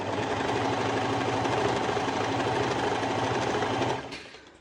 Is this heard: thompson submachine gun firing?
no